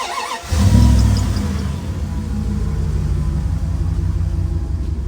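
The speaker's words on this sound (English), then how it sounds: "I'm gonna start the truck and you guys can hear the sound" A diesel truck engine with its catalytic converter deleted cranks and catches with a brief surge, then settles into a steady, loud low idle rumble.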